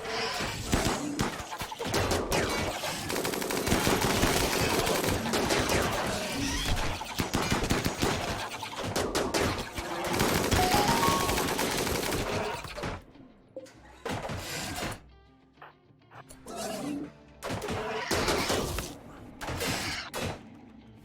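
Raiders open fire in a RimWorld survival colony battle, a long crackling barrage of dense, overlapping gunshots and crashes that later breaks into sparser bursts separated by short gaps.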